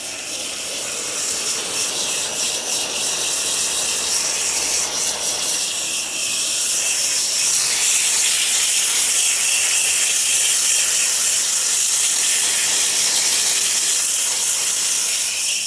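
A garden hose sprays water in a steady, loud hiss onto the dirty coil of a 1980s Rheem air conditioner leaking R22, a continuous close spray without talk.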